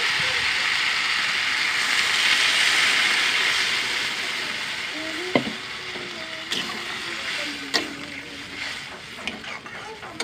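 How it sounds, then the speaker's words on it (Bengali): Water poured into a pan of sizzling, oil-rich spice masala for a rohu fish curry with potatoes, giving a broad hissing sizzle that swells and then settles, with a few sharp clinks of utensils against the pan toward the end. "এবার জল ঢেলে দেবো।"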